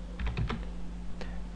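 Several quick keystrokes are typed on a computer keyboard into a Windows Start menu search box. The clicks are close and crisp, a short burst followed by a pause and one more tap.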